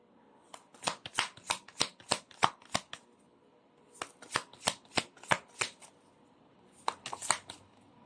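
Tarot cards shuffled up close in three separate bursts of quick, crisp riffling flicks, with short pauses between bursts and no talking.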